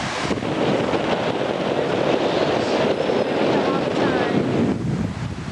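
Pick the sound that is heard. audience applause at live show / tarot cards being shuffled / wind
wind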